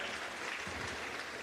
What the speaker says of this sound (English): Another round of applause for the CPC chair